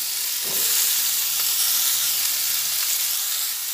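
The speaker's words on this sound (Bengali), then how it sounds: "এইসব সবজিগুলো দেওয়ার পরে ভালোভাবে সব সবজিগুলো আমি ভেজে নিচ্ছি" Ridge gourd, pointed gourd and pumpkin fry in a pan with a loud, continuous hissing sizzle that barely changes, heard close up with a faint scrape or two and no talking.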